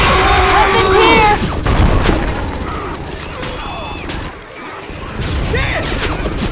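In Left 4 Dead 2, loud bursts of rapid gunfire and impacts mix with shouting voices, shooting heavily at first, easing off midway, then building again.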